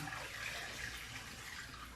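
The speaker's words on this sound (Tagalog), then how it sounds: "Gamit po ang strainer, pwede na po nating tanggalin ang tubig" Water drains from washed fish through a strainer, a steady, soft rushing and splashing stream running throughout with no voices.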